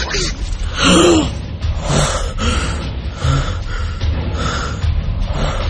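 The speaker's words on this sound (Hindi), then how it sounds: "और हांफने लगा, बुरी तरह से सांस लेने के लिए" Ragged, heavy breaths and gasps recur throughout after near-drowning in water, loud and close, with strained vocal groans over a noisy, rumbling thunderstorm background.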